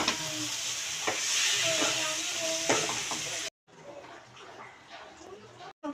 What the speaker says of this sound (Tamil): இப்போ அதை வதக்கிடலாம். பார்க்கலாமா எப்படி வதக்குதுன்னு?